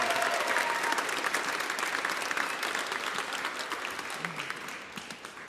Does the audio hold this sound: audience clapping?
yes